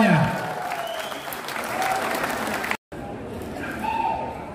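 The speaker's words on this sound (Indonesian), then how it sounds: "Tepuk tangan untuk kita semuanya." Sustained applause from a large crowd at an Indonesian Democratic Party gathering in Central Java fills the room, steady and dense, with a brief cut partway through before the clapping resumes.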